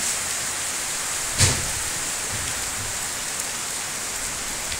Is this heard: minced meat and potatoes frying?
no